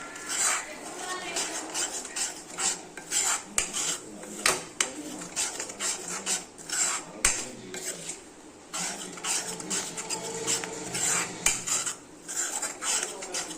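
Egg scramble (muttai poriyal) being stirred in a pan over a low flame: repeated metal clinks and scrapes of a utensil against the pan, busy and close, with no talking.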